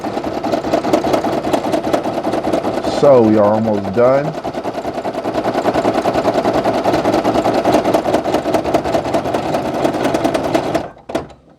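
A Brother PE800 embroidery machine stitches a dense patch, its steady rapid mechanical whirr running continuously at close range under a person talking, then cutting off near the end.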